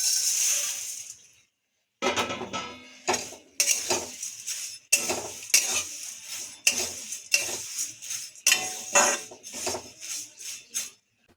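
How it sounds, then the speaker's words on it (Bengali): Flattened rice (chira) being dry-fried and stirred in a pan, repeated scraping and clinking strokes of a spatula against metal in an uneven rhythm, close and fairly loud, after a brief silent pause. "এই যে চিড়েটা এখন ভেজে নেব"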